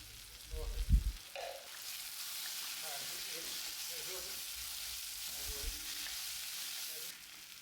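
Chili powder and spices frying in a pan for an egg roast, a steady soft sizzle with a few stirring clunks and scrapes near the start, heard close and fairly quiet.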